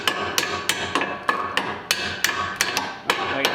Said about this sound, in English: tap it with a hammer while you're turning this